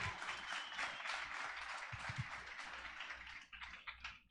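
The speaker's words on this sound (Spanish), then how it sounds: "Den un aplauso a Yaquis, que otra vez va a acompañarnos." Audience applause welcoming a guest to the stage at a Spanish-language church gathering, a steady wash of clapping lasting several seconds with a low murmur beneath, tapering slightly near the end.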